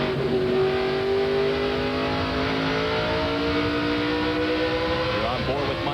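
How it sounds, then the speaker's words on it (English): Race truck engines in a 2000 NASCAR Craftsman Truck Series race, several engines holding a loud, steady drone that shifts in pitch as they downshift into tight corners, with a commentator talking over them. "a lot of these guys downshifting in these very tight corners"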